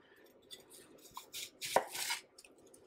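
A knife cuts onion on a board for Jamaican ackee and saltfish, giving a few soft, close chops and slices, with light clatter between the cuts and no one talking.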